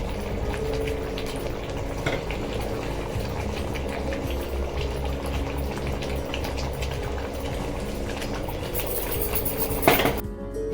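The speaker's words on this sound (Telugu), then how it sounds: "మూత పెట్టి ఒక 10 నిమిషాలు ఉడకబెట్టి" Tomato fish curry simmers in a covered pot, a steady soft bubbling and gurgling that continues evenly, with a brief clatter of the lid or a pan near the end.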